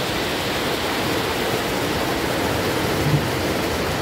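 Very heavy rain pours down in District 8 of Saigon, a dense, unbroken roar of falling water that stays loud and even throughout with nothing else standing out.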